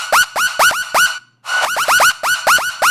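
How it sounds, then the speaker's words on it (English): A bleepy synth made from a single sawtooth oscillator with a touch of high-pass filtering and distortion plays a quick run of short bright bleeps, each dipping in pitch. A brief gap splits the phrase midway. "just one oscillator sawtooth, a little bit of a high pass filter on it, and some distortion"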